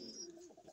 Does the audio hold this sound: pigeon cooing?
yes